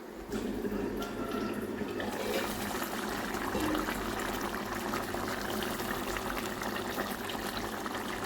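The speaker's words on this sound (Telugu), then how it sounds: "కూర అయితే ఇలా ఉడుకుతుంది" Egg and dried fish curry boils in a covered pot, giving a continuous close bubbling hiss that stays steady throughout with no voices.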